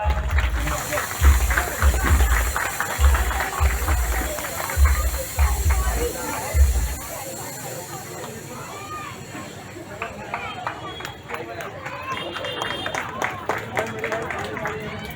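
Crowd applause at a Babasaheb Ambedkar Jayanti public gathering honouring a welcomed guest, a dense wash of clapping under chatter and a thumping loudspeaker beat for the first half, then the beat stops as voices and clapping carry on.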